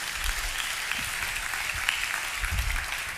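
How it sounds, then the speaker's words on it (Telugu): An audience at a Christian sermon claps loudly in a steady, dense burst of applause lasting a few seconds, with no speech over it. "చప్పట్లు కొడదాం గట్టిగా"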